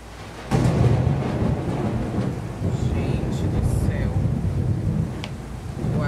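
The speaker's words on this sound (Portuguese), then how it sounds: "Acho que tá dando pra vocês ouvirem. Os trovões estão." Thunder from a storm rolls as a continuous low rumble, loud and steady for several seconds, mixed with rain-like hiss and wind noise.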